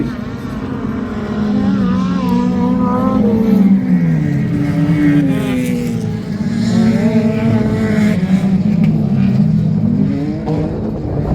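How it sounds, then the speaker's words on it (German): Autocross racing at Hesborn with cars including a Toyota MR2 and an Audi 80: loud, continuous engine roar with rising and falling revs as cars race past, a race commentator talking over it. "Und da kommt auch schon Paul Pöllmann, Felix Fürbaum im Toyota MR2"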